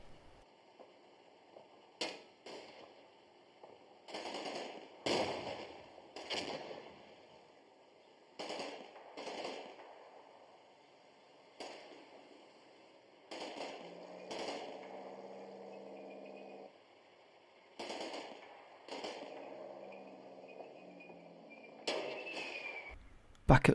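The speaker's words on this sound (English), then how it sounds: "The remaining Pak 38 continues to fire" A Pak 38 anti-tank gun fires again and again in a Combat Mission battle, with sharp blasts and booms landing at irregular intervals among scattered distant impacts and a low background hum.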